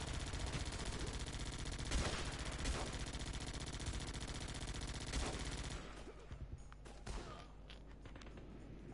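Rapid automatic gunfire from the video game Guns Up, a dense continuous stream of loud shots that thins out near the end into scattered bangs.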